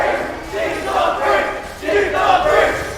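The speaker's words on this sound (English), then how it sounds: "we hear more chanting from the crowd" A crowd chants in rhythmic swells at a high school esports championship, loud repeated group shouts rising and falling in a steady cadence.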